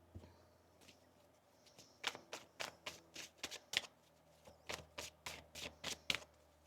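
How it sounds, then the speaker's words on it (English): Tarot cards are shuffled close up in a quick series of crisp riffling bursts, faint at first and then louder and rhythmic. "One more shuffle."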